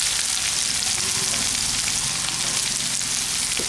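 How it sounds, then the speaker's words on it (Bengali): Two medium chopped onions sizzle in a pan with partly cooked potatoes and green chillies. The frying crackle is loud and continuous, close up. "এখন আমি এর মধ্যে দিয়ে দিচ্ছি কুচানো পেঁয়াজ, দুটো মিডিয়াম সাইজের কুচানো পেঁয়াজ"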